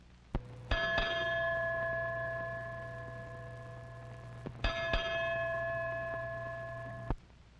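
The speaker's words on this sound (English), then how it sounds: "When the lookout sights a ship, he rings this bell to signal the watch officer on the bridge." A ship lookout's bell aboard an oil tanker at sea rings twice, each a clear metallic strike with a long ringing decay, the two rings spaced a few seconds apart over a low steady hum.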